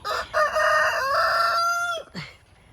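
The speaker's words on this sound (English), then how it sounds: "I think that rooster's coming after me." One loud, nearby rooster crow rises, holds its strained note for about two seconds, then breaks off, followed by a brief trailing sound.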